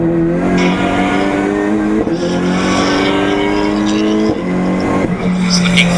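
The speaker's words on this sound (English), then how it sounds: "There's the number 1 car of Alistair Eason, one of the many Mazda MX-5s, always a popular car in races like these" Mazda MX-5 race cars driving on a circuit during a race, their engines giving a loud, continuous drone with layered tones and small dips as the cars pass, heard close for the full six seconds.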